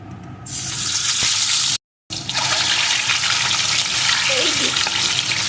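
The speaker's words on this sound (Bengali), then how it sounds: "তেলটা গরম হয়ে গেছে এখন আমি প্রথমে লবণ হলুদ মাখানো ডিমগুলোকে দিয়ে একটু ভেজে নেব" Eggs coated in salt and turmeric fry in hot mustard oil, giving a loud, steady sizzle that cuts out briefly, then returns with occasional stirring and spatter.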